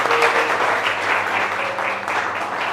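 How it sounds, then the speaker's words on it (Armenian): Relatives and congregation applaud at an engagement ceremony in a church, a steady wash of close clapping running throughout with faint voices underneath. "հարազատներս էլ իհարկե մի հատ ծափահարեք"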